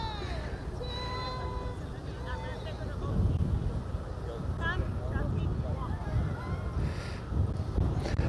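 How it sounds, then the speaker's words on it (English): Wind buffets a hat-mounted microphone outdoors at the SpaceX Starbase build site in Boca Chica, Texas, a steady low rumble that swells around the middle of the clip, with distant voices and background chatter underneath. "There's quite a bit of wind."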